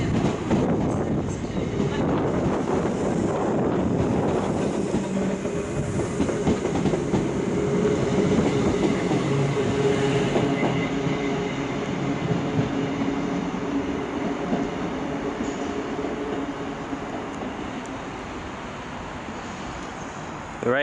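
Class 319 electric train running through Manchester Piccadilly station in the rain, a steady rumbling roll with clattering wheels close by, fading slightly toward the end.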